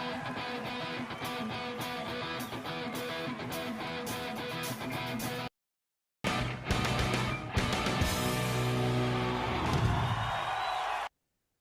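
A live rock recording of a song plays loud and dense, with guitars and pounding drums. It breaks off briefly, then returns with crashing cymbals and a sustained ringing finish.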